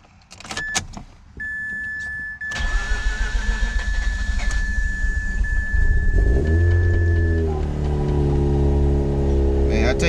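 Mazda RX8 S1 rotary engine cold-starting after a brief electrical whine and clicks, catching with a loud crank and settling into a rough, steady close-up idle.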